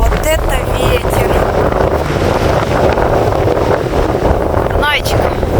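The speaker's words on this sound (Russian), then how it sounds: "Вот это ветер!" Strong wind buffets the microphone in steady, loud, roaring gusts throughout, with brief faint voices briefly audible beneath the rumble.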